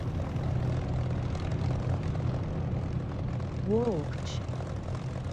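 A Corsair propeller-aircraft engine drones steadily in the DCS flight simulator, a low, continuous hum with a brief pitch sweep near the end and a faint voice under it.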